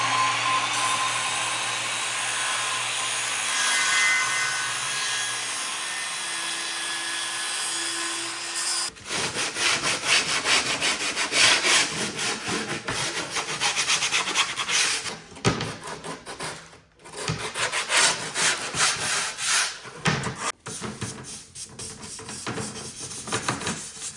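Rhythmic back-and-forth rasp of a hand saw cutting wood, close and loud, starting after a stretch of steady hum and continuing with brief pauses.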